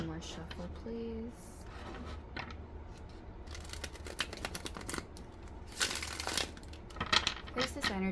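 Tarot cards are shuffled during a reading, with crisp riffling and papery snapping in uneven bursts that grow busier toward the end, close to the listener and fairly soft.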